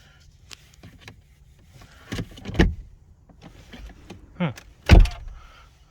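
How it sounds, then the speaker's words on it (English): Quiet Mercedes-Benz interior with a short whirring motor sound as the electronic parking brake engages, followed by a couple of mechanical clunks; faint background noise throughout. "It'll put its own handbrake on, the electronic handbrake."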